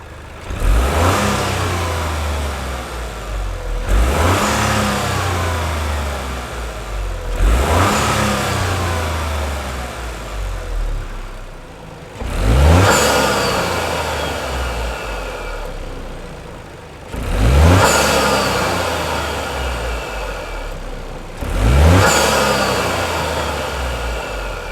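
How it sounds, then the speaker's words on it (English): Toyota GR Yaris turbo engine with an Eventuri intake revved repeatedly, about six sharp loud rev blips each rising and then decaying, with turbo whoosh and hiss as each falls back, nearby and without talk. "we release the sound of the turbo"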